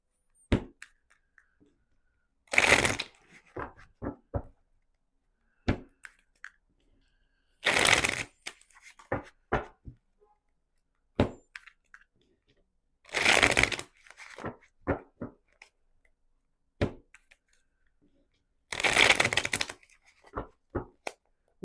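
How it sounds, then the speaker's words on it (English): Tarot cards shuffled by hand in four loud bursts of riffling, each followed by scattered taps and light clicks as the deck is squared, with short quiet pauses between bursts and no talk. "I'm going to shuffle the cards."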